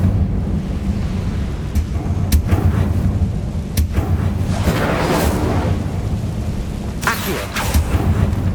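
Rumbling fiery bursts and whooshes from an Incendio fire spell in the Hogwarts Legacy video game, several loud flares over a constant low roar of combat.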